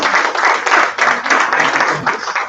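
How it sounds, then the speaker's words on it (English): Audience applause at an education summit fills the space, dense continuous clapping from many hands at close range, steady and loud throughout with no voices standing out. "Let's give you a round of applause"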